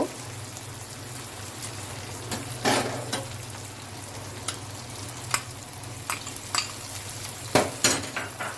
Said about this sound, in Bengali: এখন আমি শুটকিগুলা দিয়ে দিব